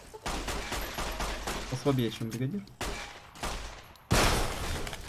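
Gunfire from the video game Fallout: New Vegas, repeated loud shots and bursts in rapid succession, with someone talking briefly over the shooting.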